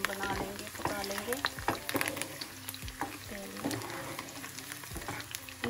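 Garlic cloves frying in a little hot oil for a lemon and green chilli pickle, giving a steady close sizzle with repeated scraping stir strokes and a faint voice in the background.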